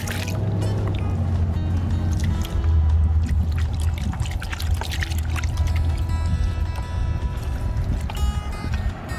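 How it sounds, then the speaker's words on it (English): Water sloshes and swirls in a gold pan as sand is washed off paydirt, with wet gritty washing sounds, drips and small splashes repeating in an uneven rhythm, close up. "start washing those blonde sands off the top of this pan"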